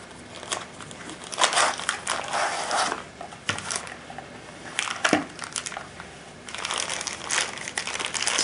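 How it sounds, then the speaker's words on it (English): Crinkly plastic packaging of an Umarex Walther CP88 CO2 airgun accessory being handled and pulled open, with close, irregular bursts of crackling and rustling and a few sharper snaps. "Get it out of the package here."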